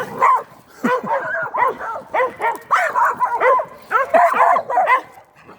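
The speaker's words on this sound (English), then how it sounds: "We got dogs here." Several dogs barking and yipping outdoors in a rapid, excited series of loud, close barks, some with whimpering tones, continuing steadily throughout.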